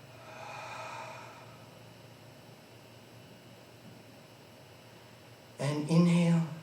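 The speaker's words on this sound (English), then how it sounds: "take 3 breaths, nice breaths to calm the body, the mind, and the spirit" Deep, calming breaths taken during a Pilates mat class: a soft, airy exhale in the first second and a half, a stretch of near-quiet room hiss, then a louder, breathy voiced sound rising at the very end.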